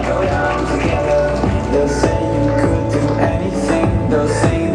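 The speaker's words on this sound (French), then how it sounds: "Et on applaudit très fort la candidate numéro 1" A studio audience at a French game show applauds contestant number one, Nina, with dense, steady clapping over music.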